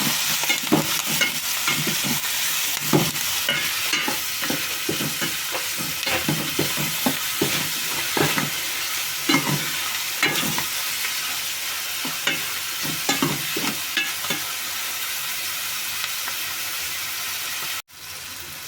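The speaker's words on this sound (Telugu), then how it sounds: "నాలుగు కరివేపాకు రెమ్మలు కూడా వేసుకుందామండి వేసుకున్న తర్వాత మొత్తం కలుపుకోవాలి" Curry leaves crackle and sizzle in a pan of hot oil, a steady hiss punctuated by a regular rhythm of scraping, knocking stir strokes, with no one talking.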